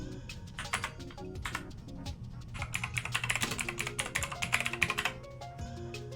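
Computer keyboard typing: rapid, uneven clusters of close, crisp key clicks, heavier in the middle, alone with no voices.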